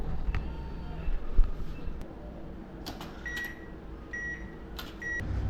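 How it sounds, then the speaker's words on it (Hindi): An ATM dispensing a cash payment: mechanical whirring and clicking of the machine, with several short high beeps near the end, set against a noisy indoor background. "पेमेंट निकलने की आवाज़ जरूर सुनाऊंगा"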